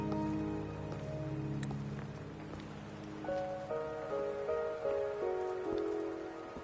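Steady rain patters over the ground in the Wuthering Waves video game, a constant wash of drops beneath soft sustained music tones, with no voices.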